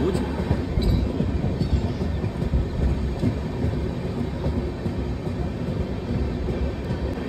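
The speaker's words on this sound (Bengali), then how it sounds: "2 মিনিট লেটে আমাদের ট্রেনটা ছেড়েছে।" The 12821 Dhauli Express train runs with a continuous low rumble and rattle heard from inside a carriage, steady throughout with no clear voices.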